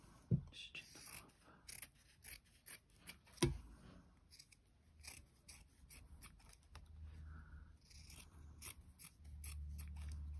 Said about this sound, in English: If you've got like any like longer bits, you can trim them off.